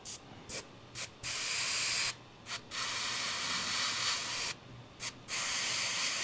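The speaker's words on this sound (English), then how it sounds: "I'm just going to spray the paint and then flash it dry with air" An aerosol can sprays paint onto a metal trolling spoon in several long hissing bursts separated by brief pauses, close and steady, with no voices.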